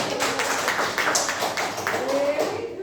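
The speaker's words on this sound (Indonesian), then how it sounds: "Tepuk tangan dulu." A class in a microteaching practice lesson claps hands together, giving a short, lively round of applause with quick, uneven claps.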